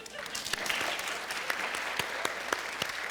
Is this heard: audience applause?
yes